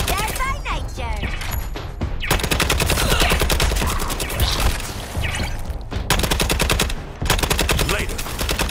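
Deadshot's guns fire in long, rapid automatic bursts in Suicide Squad: Kill the Justice League, loud and close with short pauses between volleys and game voices speaking over them.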